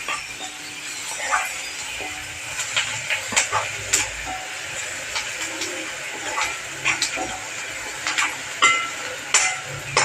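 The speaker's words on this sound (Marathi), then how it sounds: "आता हा चांगला कांदा परत मी परतून घेणार आहे" Onion sautéing in a pan, a steady frying hiss and sizzle with irregular crackles and pops across the whole stretch, close and moderately loud, no talk over it.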